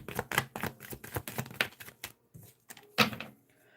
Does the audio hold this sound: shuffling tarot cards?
yes